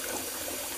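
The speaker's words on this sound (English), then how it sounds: "Just a little rinse." Water from a tap runs steadily over a safety razor as it is rinsed, a close, continuous splashing gush without any talking.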